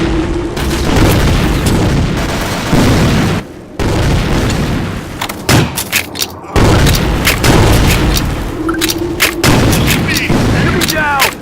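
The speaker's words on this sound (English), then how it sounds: "Grenade!" Grenade blasts and heavy gunfire from a combat video game form a loud, dense barrage of booms and bursts, with a few short gaps and a faint voice calling out beneath.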